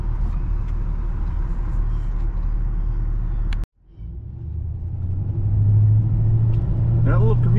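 A small commuter bus passes on a suburban street, a steady loud engine rumble rising as it draws near, with a brief dropout in the middle before the drone swells back, heard from inside a vehicle.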